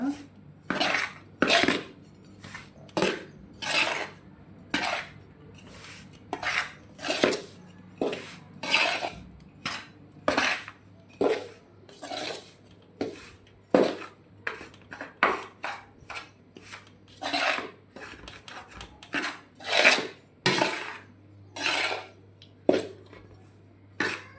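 Repeated scraping and clinking of a utensil mixing mango pickle in a metal vessel, an irregular rhythm of strokes that goes on steadily throughout, close by.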